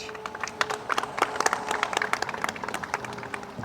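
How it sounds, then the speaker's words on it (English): Applause from an audience at an outdoor groundbreaking ceremony for 31st Street, a scattered, moderately faint round of clapping with irregular individual claps lasting a few seconds. "Let's clap for him."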